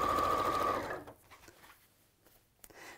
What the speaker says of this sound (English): And then we'll sew the 2 pieces together.